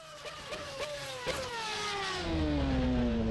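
A 1993–94 Formula One car engine in the racing game rFactor 2 screams through rising revs and gear shifts, a high harmonic whine climbing steadily and growing louder, with no talking.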